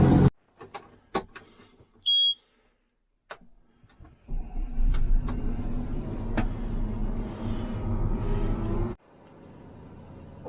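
A heavy truck pulls up during a field harvest, its engine rumbling loud and close for about five seconds after a few scattered clicks, then cutting off abruptly.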